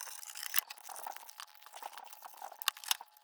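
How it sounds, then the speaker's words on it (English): Scissors snipping through cardboard to cut out a moon shape for a papier-mâché ornament, a quiet run of close, crisp crunching cuts with a few sharper snips. "I'm going to cut out the cardboard using the scissors"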